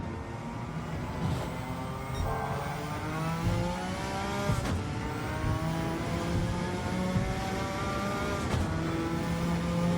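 Suzuki Escudo race car in Gran Turismo 7 at Tokyo, its engine revving and accelerating through rising and falling gear pitches, loud and steady throughout with a brief tire squeal, no voices.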